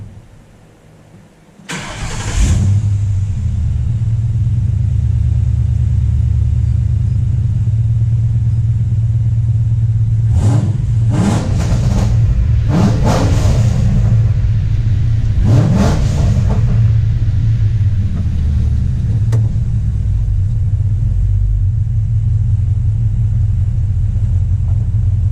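A 1966 car fitted with Stainless Works long tube headers starts up with a sharp crank, then settles into a loud, deep, steady idle rumble broken by a few throttle blips and revs.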